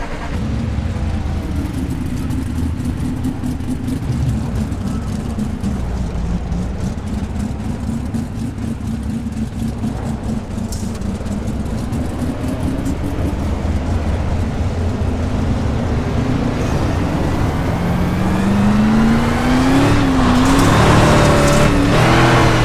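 A race car engine in the iRacing sim racing game drones steadily, holding a loud continuous hum, then climbs in pitch as it revs up near the end.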